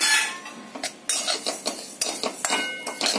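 Dry fruits and white sesame seeds roast in a pan for modak while a metal spoon stirs and scrapes. It makes a close run of irregular clinks and scraping strokes with short pauses between, and no talk.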